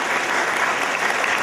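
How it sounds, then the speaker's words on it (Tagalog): Crowd applause at a barangay founding anniversary parade event in Pakil, Laguna, a dense, steady, loud wash of many hands clapping with no breaks. "Masigabong palakpakan"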